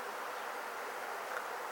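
A swarm of African bees up in a tree gives off a faint, steady, unbroken buzzing hum, distant and continuous with no voices over it.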